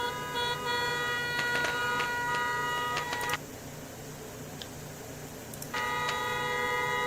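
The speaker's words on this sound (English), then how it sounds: "you need to stop honking that horn now" A car horn blares in long sustained honks at a Los Angeles protest, cutting out for a few seconds before sounding again, over a background of street noise.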